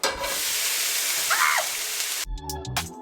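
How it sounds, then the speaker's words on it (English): Carrots, cabbage and bok choy sauté in a pan, giving a steady, close hiss of sizzling that stops abruptly near the end and gives way to clattering kitchen sounds. "I basically just let the carrots and cabbage and bok choy saute"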